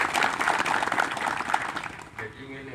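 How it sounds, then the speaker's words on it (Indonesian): Audience applause at a search-and-rescue training gathering, a brisk burst of many hands clapping that fades after about two seconds, giving way to someone speaking. "Sekali lagi tepuk tangan."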